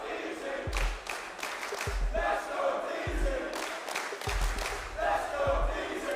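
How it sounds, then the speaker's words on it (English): Esports arena crowd at a Manchester Major quarterfinal chanting in unison for the NA team DarkZero, a loud, rhythmic chant with sharp repeated beats roughly every second, filling the hall alongside general crowd noise. "I know they're an NA team, guys, but we don't have to do an NA chant."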